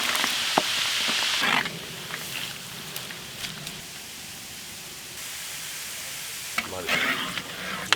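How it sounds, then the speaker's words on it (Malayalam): Garlic frying in hot oil gives a continuous soft sizzle with brief stirring scrapes, louder at the start and end and quieter in between. "വെളുത്തുള്ളി വറുത്തെടുക്കാം."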